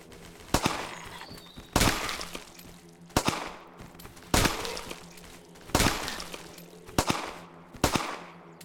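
Gunfire from a zombie survival video game as the last bullets are spent: seven sharp, loud shots fired one at a time at roughly even intervals, each with a short ringing tail, with no talk.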